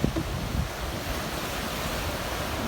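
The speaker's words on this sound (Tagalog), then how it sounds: "Ang lalaki ng alon." Large ocean waves break on a shore in Cagayan, a continuous roaring surf wash heavily mixed with wind buffeting the microphone, steady and loud without pause.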